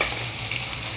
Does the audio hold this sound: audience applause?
no